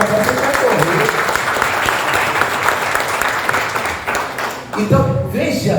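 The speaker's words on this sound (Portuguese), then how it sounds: "uma salva de palmas para a turma" A class of students breaks into loud, dense applause during a hermeneutics lesson, many hands clapping continuously at close range, with cheering voices mixed in before the clapping thins out at the end.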